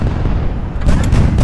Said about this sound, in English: Oh, bomb explosion.